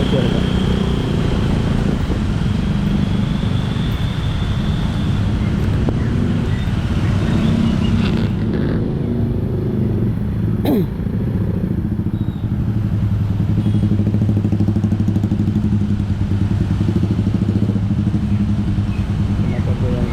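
Motorcycle traffic on a busy road in Bali on a rainy morning, a steady close roar of engines and road noise that continues throughout, with a brief clatter partway through.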